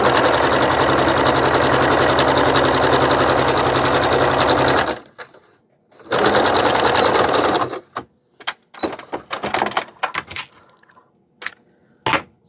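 Sewing machine stitching cotton gauze for a men's tunic shirt with French seams, running loud and steady for about five seconds, then a second short burst, followed by scattered clicks and taps.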